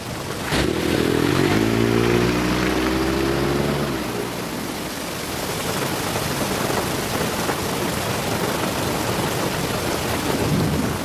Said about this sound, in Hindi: लेकिन बाहर बारिश हो रही है।